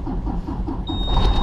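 Diesel semi truck engine cranking and catching, a dense low rumble building steadily and growing louder toward the end, with a thin steady whine above it.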